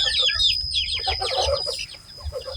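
Chickens clucking and squawking inside a small country-style coop, several birds close by calling over one another in a busy, continuous stretch.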